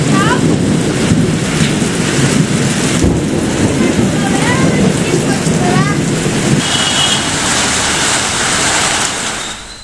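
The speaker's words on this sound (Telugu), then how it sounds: "శ్రీకాకుళం జిల్లాలో నిన్న సాయంత్రం నుంచి ఏకదాటిగా వర్షాలు కురుస్తున్నాయి." Heavy rain pours down steadily in Srikakulam district, a loud dense hiss that fills the whole stretch with low rumbling beneath, while a voice speaks over it.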